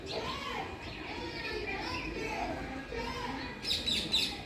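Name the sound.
birds chirping in a tree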